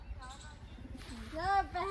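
Brief, soft cooing of a pigeon close by, with a person's voice speaking over it.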